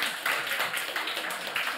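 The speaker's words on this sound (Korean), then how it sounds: "네, 박수하겠습니다." A church congregation at a Sunday service applauds together, a soft, even patter of many hands clapping at moderate distance with no voices over it.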